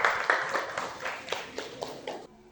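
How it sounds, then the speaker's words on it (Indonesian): A small classroom group claps for a student with the top pretest score, a sparse run of about eight distinct claps in a loose rhythm, fairly quiet and close, ending abruptly. "tepuk tangan buat Alia"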